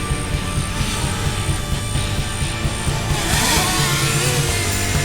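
A steady, loud buzzing whine of a DJI Mavic Mini quadcopter drone's small propellers, continuous and close, with a slight rise in pitch and intensity partway through.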